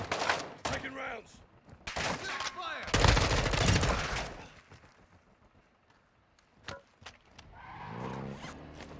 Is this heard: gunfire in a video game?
yes